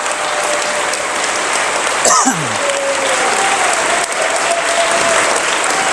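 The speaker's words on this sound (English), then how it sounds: "Could we give a round of applause for Congressman?" Town hall audience in Springfield, Oregon applauding steadily for the whole stretch, a dense wash of clapping with a few shouts and a boo rising briefly near the middle.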